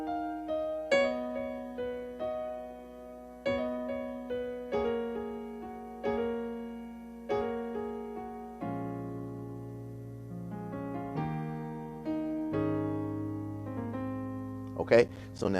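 Gospel piano intro to a song, a series of full sustained chords struck one after another with ringing decays, clear and close, played solo without voices.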